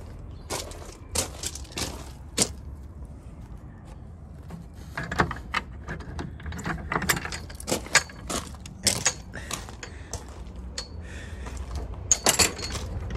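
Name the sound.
keys jangling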